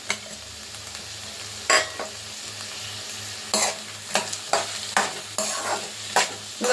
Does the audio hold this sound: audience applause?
no